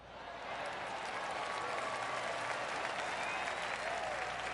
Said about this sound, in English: make the crowd go wild